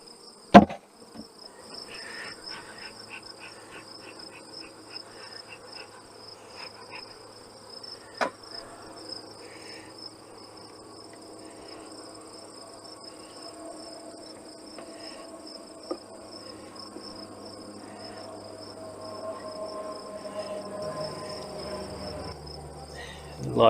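Bees buzzing inside a nuc box during a colony transfer, a steady continuous insect hum with a faint aircraft drone building toward the end and occasional sharp knocks.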